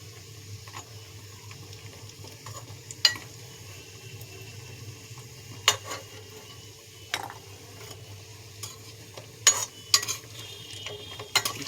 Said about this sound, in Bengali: লাল লাল করে ভাজতে হবে।